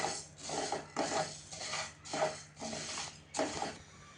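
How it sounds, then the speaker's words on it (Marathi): Whole spices including caraway, cloves, black pepper, bay leaves and cumin dry-roasting in a pan over medium heat, stirred in steady rhythmic scraping strokes about every half second, close and clear with no talk. "सुरुवातीला आपण पॅन थोडा गरम करून घेतला आणि मग आपण हे सगळं साहित्य मध्यम आचेवरती भाजून घेतोय."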